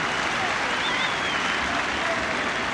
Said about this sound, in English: the Cardiff crowd enjoying the performance he's put on so far